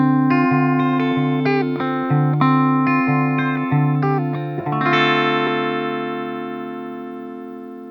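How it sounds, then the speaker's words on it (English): Ibanez RG652BG Prestige electric guitar through its Tone Zone bridge humbucker, playing distorted chords and lead notes with effects and reverb, ending on a long ringing chord that slowly fades. "It's a humbucker and it sounds like this."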